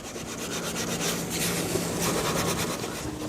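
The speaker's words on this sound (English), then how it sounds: "we got it all polished up" A cloth rubs steadily over an antique wooden dining chair during polishing, a continuous close, fairly loud swishing scrub without pauses.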